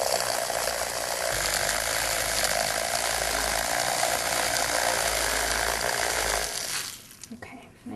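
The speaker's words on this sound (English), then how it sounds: "We made our stencils using the Crayola cutter" A Crayola cutter carves a stencil with a continuous buzzing, ratcheting mechanical whir that holds steady for several seconds before stopping, leaving faint handling noises.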